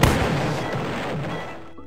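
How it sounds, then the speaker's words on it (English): A rocket blast in Roblox Destruction Simulator booms loudly, then rumbles with rolling crashing debris that fades away over about two seconds. "I do like 3 rockets every time, that's kinda sick."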